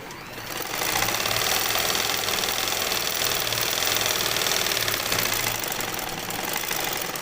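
A sewing machine stitches rib fabric for a belted salwar, running in one steady, rapid whirring burst for several seconds after a brief start, close and fairly quiet, with no talk.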